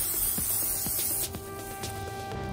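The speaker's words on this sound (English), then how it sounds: "make sure you spray your pan real good with some" Palm olive oil sprayed from a can onto a pan gives a loud, steady hiss that runs for about a second, then fades into quieter background noise, with no talking.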